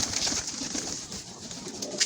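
Pigeons in a loft coo softly in low, murmuring pulses that stay faint and close against a quiet background.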